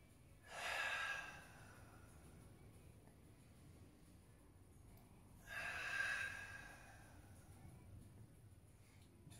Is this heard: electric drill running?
no